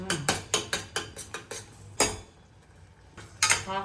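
A spoon stirring masala in a metal pan, giving a quick run of sharp scraping clinks in a steady rhythm, then a short pause, then another burst of clatter, close and clear.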